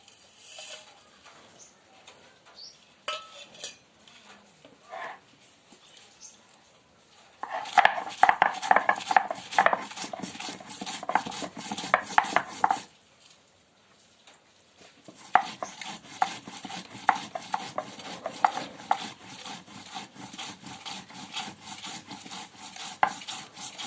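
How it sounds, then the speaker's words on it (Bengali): Whole chili, coriander and cumin being ground together by hand, bursts of rhythmic rubbing and knocking that stop and start again, close by, with faint birds cooing in the background and no speech. "আছে এখানে লঙ্কা, ধনে, জিরা একসাথে বেটে নেব"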